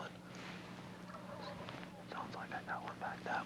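A wild turkey gobbles in a burst of rapid rattling notes toward the end, moderately close in woodland, after quieter outdoor ambience with faint rustling.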